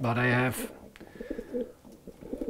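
Pigeons coo in a loft holding late-bred birds and young birds, a soft low cooing heard faintly behind a voice after he briefly speaks.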